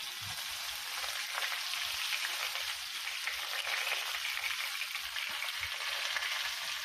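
Sesame seeds, asafoetida and curry leaves sizzle in hot oil for a Gujarati handvo, a constant close crackling hiss with faint popping throughout and no speech.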